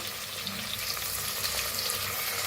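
Garlic, ginger and green chili paste frying in a pan for masala rice makes a dense, steady sizzle close up, with faint stirring underneath and no voices.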